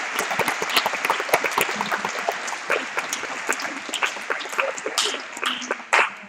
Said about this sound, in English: I want a round of applause for all the candidates once more